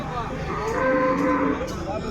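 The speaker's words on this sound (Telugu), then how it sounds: "ఆవు ఎద్దులు కొన్ని అయితే ఉన్నాయి చాలా భారీగా ఉన్నాయి ఎద్దులు" Heavy bulls and cows at the Punganur livestock market, including Kunchu and Jallikattu breeds, low drawn-out mooing and lowing in a continuous stretch, fairly close, with a steady crowd murmur behind.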